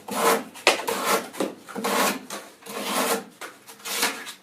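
A Zero Tolerance ZT0770 knife blade slicing through cardboard, close repeated scraping and tearing strokes in an uneven rhythm, each lasting under a second.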